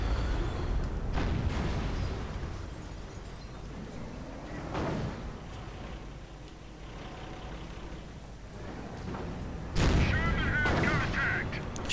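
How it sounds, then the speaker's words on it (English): Heavy artillery fire in a World War II strategy game, several sharp booming blasts spaced across the stretch, with a loud final impact, over steady battle rumble. "That was actually the sector artillery ability."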